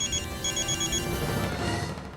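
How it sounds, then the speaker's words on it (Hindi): A telephone rings in a Hindi TV serial scene, its electronic ringtone pulsing in short bursts over about two seconds, fairly close and steady, with no talking. "हेलो निखिल, तुमने मुझे इस वक्त फोन क्यों किया है?"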